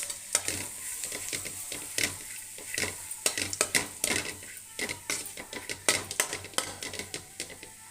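Spice powder frying in a hot pan for mango rice, with a steady sizzle under frequent scraping and clinking strokes of a spoon against the metal pan, close and lively throughout.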